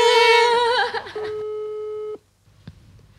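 A phone rings with a loud steady electronic tone during a call to a mother, then cuts off abruptly, leaving brief quiet with a couple of faint clicks.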